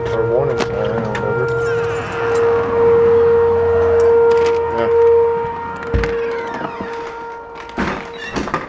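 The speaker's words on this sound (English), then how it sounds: "It's a pretty loud horn." A loud outdoor warning horn or siren blares with a steady sustained tone through most of the stretch, with people talking nearby underneath it and a sharp thump near the end.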